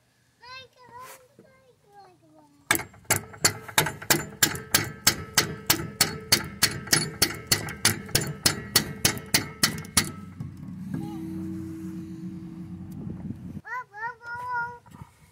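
Hammer strikes a part into a trailer leaf spring in a steady run of about twenty sharp, close metallic taps, preceded and followed by brief speech.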